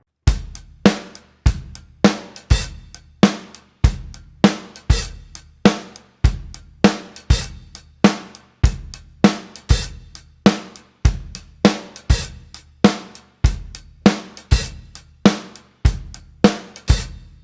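A faster funky drum kit groove drives on with hi-hat barks, punchy kick and snare hits repeating in a tight, steady cycle. It sounds loud and near, with no speech.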